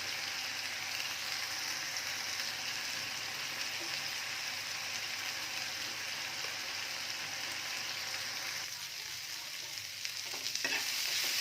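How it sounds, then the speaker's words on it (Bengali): Bele (goby) fish sizzles steadily in a pan with chillies and onions, a close, continuous frying hiss with occasional stirring scrapes near the end. "এই যে ঝাল আর পেঁয়াজগুলো দিয়ে দিয়েছি, বেলে মাছটা ভাজা হয়ে গেছে হালকা"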